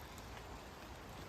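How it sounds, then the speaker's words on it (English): Steady rain hisses without a break, a dense even wash of drops that is faint and distant, with no voices or other sounds. "It's raining."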